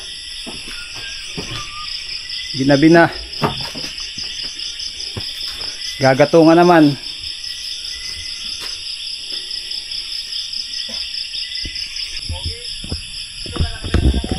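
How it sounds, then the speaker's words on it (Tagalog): Crickets chirp steadily at night in a rural place after a day of copra making, a constant high shrill drone with faint bird calls, while a person speaks briefly twice over it. "Huni na lang ng kuliglig at ibon ang maririnig mo."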